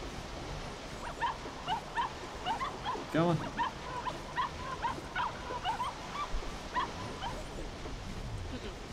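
A dog in a cave adventure video game barks repeatedly in short yips and whimpers, the bursts scattered across the clip over a faint background, while a person briefly speaks.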